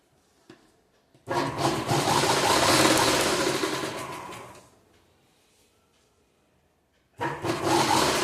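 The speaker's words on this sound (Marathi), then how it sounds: "या बाजूने सुद्धा अर्धा इंचावर शिलाई मारून द्यायची आहे." A sewing machine runs a half-inch seam along the side of a blouse, starting with a sudden loud whir that holds for about three seconds, winding down to quiet, then starting again near the end.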